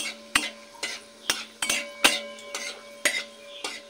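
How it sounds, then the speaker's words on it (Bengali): A utensil stirs shahi jeera tempering in a pan, giving close, rhythmic scraping clinks of metal on metal about every half second over a faint sizzle. "ফোড়নটা একটু নাড়াচাড়া করে আর একটু ফোড়নে দেব অল্প পরিমাণে সাজিরে।"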